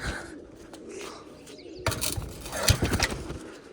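Pigeons in a loft coo softly nearby, a low murmuring call under rustling and a burst of louder fluttering activity partway through.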